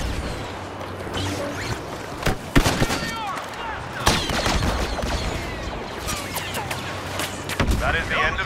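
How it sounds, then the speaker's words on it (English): A Y-wing bomber run in Star Wars Battlefront's Walker Assault mode: dense volleys of blaster fire and heavy booming explosions roll continuously and loudly, with distorted game voices mixed in. "Y-wing bomber attack."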